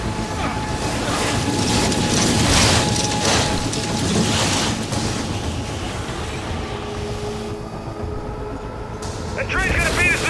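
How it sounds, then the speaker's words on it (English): In the video game Gears of War 5, a train approaches, a loud sustained mechanical rumble with clanking, grinding rail noise and a faint steady tone, while voices shout over it. "That train's gonna beat us to the bridge!"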